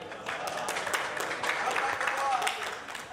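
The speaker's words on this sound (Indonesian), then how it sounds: "Kita tepuk tangan dulu buat Echa selaku ketua panitia" Audience applause at an economic outlook discussion forum in South Sulawesi: a steady, dense patter of many hands clapping throughout, with voices mixed in.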